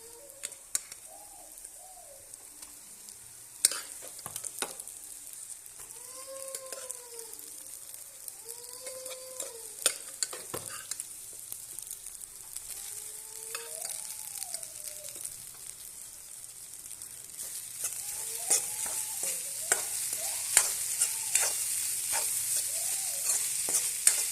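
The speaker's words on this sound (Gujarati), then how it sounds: "ચડી ગયા છે શાકભાજી, તો એમાં આપણે ભાત હવે વધેલું ભાત છે આપણે નાખી દઈશું" Leftover cooked rice tipped into a pan of already-cooked vegetables and stir-fried, giving a steady sizzle with scraping stirs and occasional clacks, while doves coo softly in the background.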